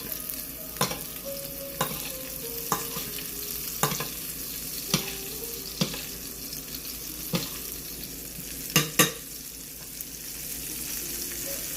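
Fish fries in a curry sauce in a pan, a steady close sizzle running throughout while a spoon bastes it, knocking the pan with about a dozen sharp scrapes and taps spread at irregular intervals, two louder clanks near the end.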